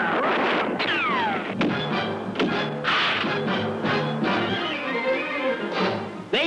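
Gunfire in a 1966 Lone Ranger cartoon shootout: loud, busy cracks and booms layered over a dense, noisy soundtrack with a whistling swoop early on.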